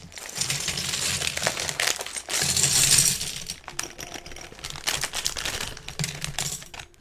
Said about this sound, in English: I know I'm crinkling bags